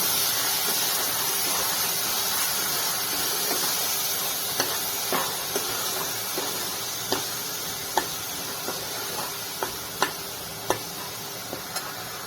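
Masala paste with mustard seeds and cumin frying in hot oil, a steady hiss with scattered sharp pops and crackles that grow more frequent toward the end, close and moderately loud with no talking.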